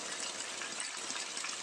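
Water rushes through an improvised bamboo channel in a steady, dense gush that stays even and loud the whole time, close by, with no voices.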